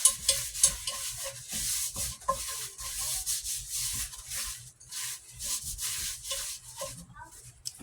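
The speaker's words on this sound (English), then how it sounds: "we're going to oil up this Dutch oven pan really good." A Dutch oven pan is rubbed with olive oil, producing close, continuous rubbing and wiping strokes in uneven bursts of scratchy friction, with brief pauses between passes.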